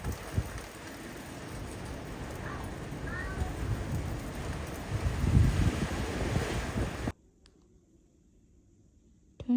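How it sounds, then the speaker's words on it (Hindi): Strong wind roars and buffets the microphone for several seconds, with faint voices in the background, then cuts abruptly to near silence. "लेकिन इतनी कोई तेज़ हवा चल रही है,"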